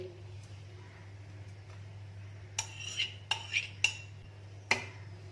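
Metal spoon or whisk clinks against a bowl in a few sharp bursts while bread dough ingredients are mixed, mostly quiet between strokes over a steady low hum.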